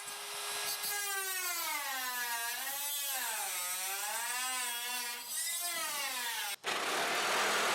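A power tool whines steadily while cutting a fiberglass front end for a Studebaker gasser build, its pitch wavering up and down under load before cutting off abruptly, followed by a short burst of hissing noise.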